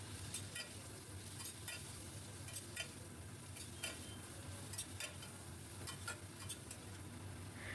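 Fried potato and bitter gourd being stirred in a pan with salt and turmeric, a steady low sizzle under repeated scraping strokes of a utensil, close and fairly quiet with no talking.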